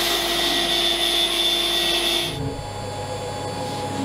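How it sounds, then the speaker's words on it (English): A power saw resaws a 2 mm olive-wood veneer, giving a loud, steady whining cut for about two seconds before the blade spins down into a lower, quieter hum. "I'm going to resaw a 2 mm thick olive-wood veneer"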